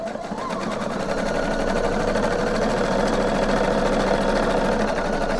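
A domestic sewing machine stitching an elastic edge runs at a steady, fast, even buzz for the whole stretch, loud and close with no pauses.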